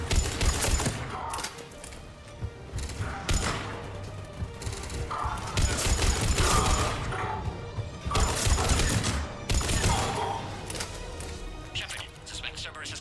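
Rapid gunfire from a Mass Effect 3 firefight on Sur'kesh, dense bursts and impacts repeating throughout, with game voices and effects mixed in.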